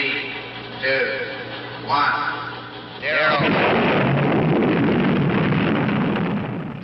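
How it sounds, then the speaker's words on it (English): Nuclear explosion sound effect from a 1964 political ad: after a few whooshing swells, a loud deep roaring blast erupts and rumbles on steadily, filling the rest of the clip without talk. "the loud noise you hear at the end is the sound of a nuclear explosion"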